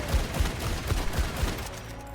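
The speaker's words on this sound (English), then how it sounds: "Look at the Ashe reload now" Ashe's rifle in the video game Overwatch fires a series of about six evenly spaced punchy shots, then the reload follows under continuous game background sound, with no talk.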